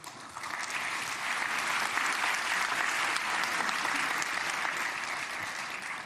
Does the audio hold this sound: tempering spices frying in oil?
no